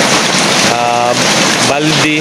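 Rain dripping and splashing into a bucket on a wet rainy afternoon, a loud constant wash of falling water with a person talking over it.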